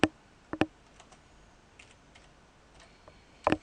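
A few keystrokes are typed on a computer keyboard, close and crisp, with sparse clicks at the start and a short burst at the end.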